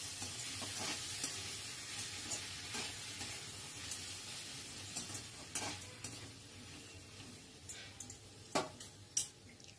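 Capsicum, tomato and peas are stirred in a wok over a soft, steady sizzle, with a few sharp clinks of the utensil against the pan growing louder toward the end; no one speaks.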